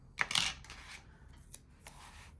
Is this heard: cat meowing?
no